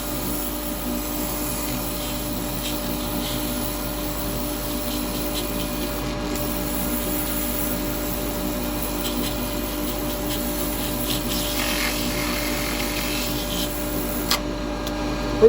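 Constant droning motor hum of a spinning lathe with a soft abrasive rasp of 180-grit sandpaper on a natural-edge firewood bowl, even and unbroken throughout.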